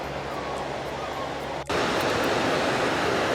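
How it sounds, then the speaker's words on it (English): Steady rushing water pours from a small waterfall, a constant hiss that briefly dips and then returns louder and fuller. "I know it's not a huge waterfall or anything like that, but I love the sound of water."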